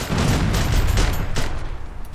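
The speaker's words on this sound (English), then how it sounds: "Someone just shot at me!" Gunfire during a battle in the video game Iron Harvest, a dense, loud burst of overlapping shots and booms that thins out toward the end, with no voices.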